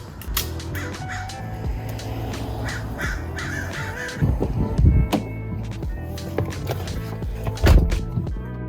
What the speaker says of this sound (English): The birds were going crazy over here.